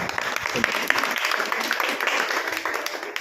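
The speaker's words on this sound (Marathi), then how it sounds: "सर्वांनी या दोघांच्या जोडीसाठी एकदा टाळ्या वाजवा." A classroom audience claps for two young students, brisk applause from many hands that stays steady and moderately loud for the whole stretch.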